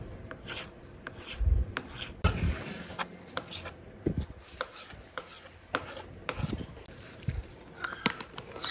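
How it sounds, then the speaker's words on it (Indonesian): A knife chops leftover coconut jelly into small pieces for melon pudding, giving irregular close taps and scraping rubs on a board with quiet gaps between cuts. "Ini bisa dipotong kecil-kecil seperti ini pakai pisau."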